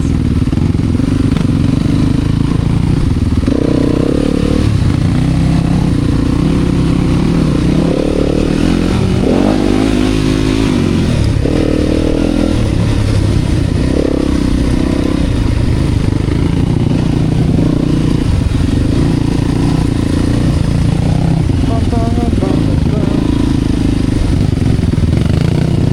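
Yamaha enduro motorcycle running along a dirt trail, its mid-pitched engine droning steadily close by with rises and dips in throttle and occasional clattering over rough ground, no talk.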